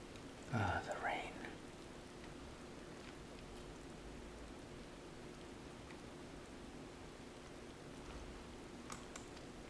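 Soft rain falls steadily in a fantasy role-playing video game, a faint even hiss running throughout, with a brief voice near the start.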